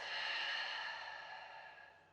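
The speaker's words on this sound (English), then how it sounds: "Exhale through the mouth." A single slow exhale through the mouth during a vinyasa yoga flow, a soft airy breath that fades out gradually over about two seconds, close and quiet with no talking.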